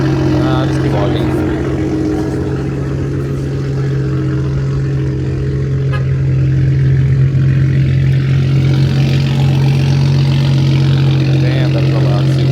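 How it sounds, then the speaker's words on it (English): A loud Toyota Supra engine idles close by with a heavy, steady drone. It swells into stronger revving partway through, and people chat under the noise. "Damn, that is a loud Supra."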